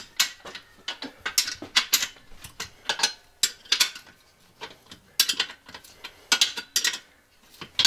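Half-inch bolts on a bus driver's seat in a converted skoolie are tightened with a ratchet, giving rapid clicking bursts in quick repeated strokes, close and distinct, with short pauses between runs.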